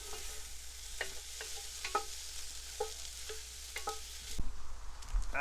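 Onions and poblano peppers sauté in butter in a pan, with a continuous sizzle and repeated scraping stirs about every half second, up close and with no voices.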